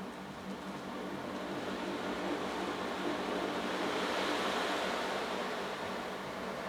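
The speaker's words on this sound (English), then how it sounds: "make this nice little journey with the ocean drum" An ocean drum played during a sound healing session gives a steady, close washing hiss of rolling beads that swells gently like surf, alone and without talk.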